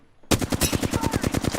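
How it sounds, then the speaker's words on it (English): Rapid automatic gunfire aimed at the player in a shooter game, a close, loud burst of evenly spaced shots rattling continuously for over a second after a brief quiet start. "Getting shot at."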